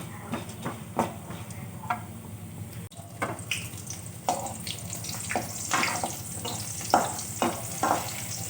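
Garlic sautés in a pan for a coconut chutney with dried red chillies, tamarind and toor dal, a soft, low sizzle punctuated by repeated scraping strokes of a stirring spoon, fairly quiet and without speech.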